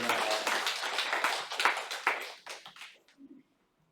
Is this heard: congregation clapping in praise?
yes